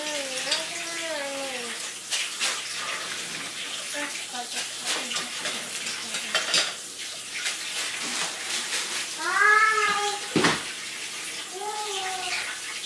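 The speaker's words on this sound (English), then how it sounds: "I'm gonna wash my hands." Tap water runs steadily into a household sink during handwashing, with a voice and an adult talking over and around the flow.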